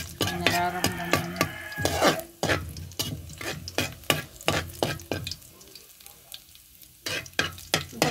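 Garlic sautéing in a pan, with a loud, steady oil sizzle broken by repeated sharp scrapes and knocks of a utensil stirring against the metal, heard up close with no talking.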